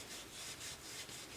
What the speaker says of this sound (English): I'm just going to rub the stain onto my surface